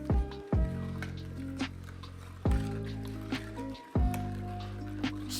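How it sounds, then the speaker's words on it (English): Peach cobbler filling stirred in a pot with cinnamon: wet squishing swirls come in a few slow strokes, close and fairly quiet, with faint sizzling from the simmering fruit. "Now we're gonna stir this up."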